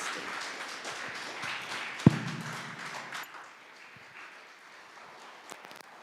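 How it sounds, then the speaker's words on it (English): An audience at an international social work conference applauds the participants, a fairly faint, dense patter of clapping that carries for about three seconds, then fades to quiet room tone. "Maybe we'll give a good clap for the participants."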